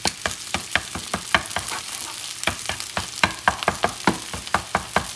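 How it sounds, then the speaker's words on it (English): Crackling sizzle of an egg frying in a pan, punctuated by repeated sharp scraping clicks of a utensil stirring, close and busy, no voices. "What you're doing is you're frying that egg."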